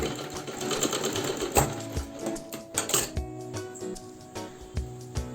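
A sewing machine stitching a balloon frock runs in a fast, steady mechanical rattle up close, then slows into separate clicking needle strokes and small metallic clinks, with no voices.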